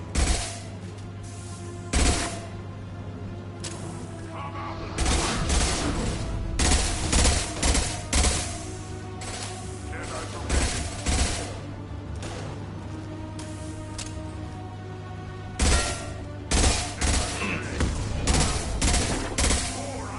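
Squad gunfire in the Mass Effect 2 video game: repeated bursts and volleys of shots crackling loudly across the scene, with brief pauses between clusters of fire over a steady low hum.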